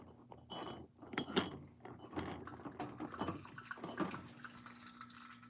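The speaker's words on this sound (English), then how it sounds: "You hear that? Them oils boiling, boy." Quiet bubbling and crackling of oils boiling in a distiller, soft irregular pops and gurgles with a faint low hum underneath.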